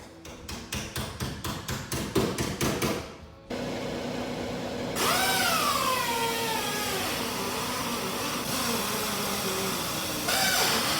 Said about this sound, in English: Now I'm using the grinder to clean up the surface rust, followed by the wire wheel.